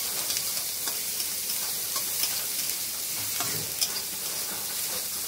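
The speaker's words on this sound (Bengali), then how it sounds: "তো দেখো, পেঁয়াজটা এবার লাল লাল করে ভেজে নিয়ে ফিরে আসছি।" Onions frying in mustard oil, a steady fine sizzle and crackle heard up close and alone, with a few soft stirring clicks now and then.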